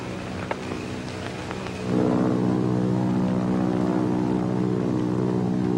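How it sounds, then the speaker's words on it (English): Army propeller planes fly overhead, a droning multi-engine hum that swells in suddenly after a faint stretch and then holds steady and loud, with a faint tap just before it and no voices. "Might be Army planes."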